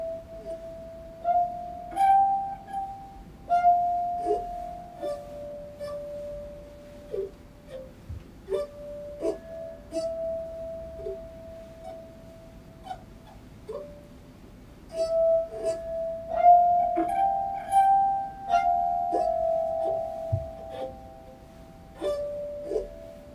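A glass harp sings sustained, pure tones that glide between pitches, soft and close, with faint glassy clinks and touches between the long ringing notes.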